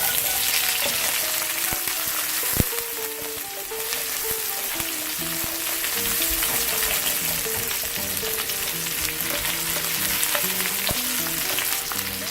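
Green chilies and onion frying in hot oil for chilli chicken give a steady, close sizzle throughout, with a brief stirring clack, and no voices.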